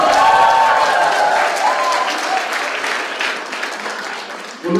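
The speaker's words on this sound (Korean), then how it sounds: "여러분, 김문수 선배님을 향해서 큰 박수 다시 한번 부탁드립니다." Audience at a political women's workshop applauds loudly, dense clapping that gradually fades over a few seconds.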